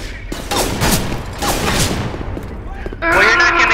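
Shotgun fire in the video game Left 4 Dead 2, blasts and gunfire bursts mixed with excited voices talking throughout, loud and close, with a game sound effect near the end.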